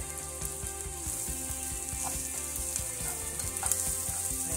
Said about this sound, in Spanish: Ahí removemos para que el azúcar llegue a todos lados.